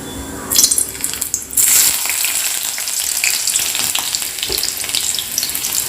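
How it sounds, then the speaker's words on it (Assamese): Onions dropped into hot oil on a gas stove at medium flame burst into loud sizzling, then settle into a steady close crackle and hiss while being stirred. "তাৰ পাছতে দিছোঁ পিঁয়াজ,"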